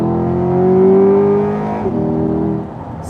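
A 2021 Chevrolet Corvette Convertible Z51 with its naturally aspirated engine and 8-speed dual-clutch automatic revs loudly, the pitch climbing and then dropping sharply at a quick gear shift before pulling again, with no voices.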